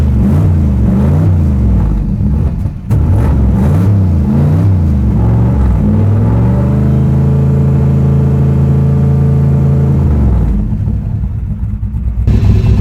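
A car engine rumbles loudly up close, revving in uneven pulses before settling into a steady idle, then surging again near the end.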